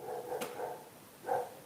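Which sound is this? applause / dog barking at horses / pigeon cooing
dog barking at horses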